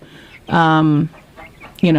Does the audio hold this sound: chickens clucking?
yes